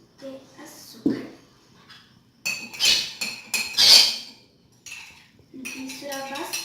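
A spoon stirs sugar and water inside a mug for a microwave pudding syrup, with bursts of clinking and scraping against the ceramic, near and fairly loud, between pauses and brief voice sounds.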